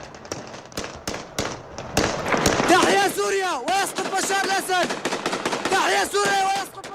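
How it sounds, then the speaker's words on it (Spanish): Rapid bursts of gunfire crack through the streets of Damascus, sharp repeated shots mixed with loud shouting and chanting voices nearby. "En las calles de Damasco el sonido de los disparos se repite de manera constante."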